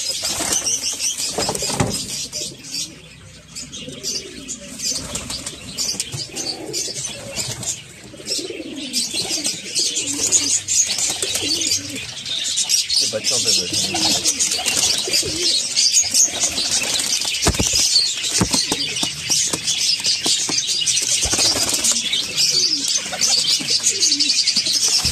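Pigeons of a high-flying breed coo repeatedly and chirp at close range, with bursts of wing flapping throughout a long, busy stretch. There is no talking.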